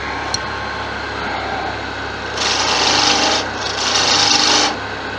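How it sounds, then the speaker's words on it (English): A detail gouge cuts wood on a lathe while turning a wand, a low spinning hum joined by two loud rasping cutting passes of about a second each, close and free of talk. "Now the detail gouge."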